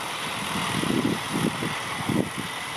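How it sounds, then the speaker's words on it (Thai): A John Deere 5050D tractor runs nearby while plowing a rice field with a six-disc plow, a low, throbbing diesel rumble with a few louder surges rising over a steady idle. "แท็กเตอร์ครับแท็กเตอร์รถไถ"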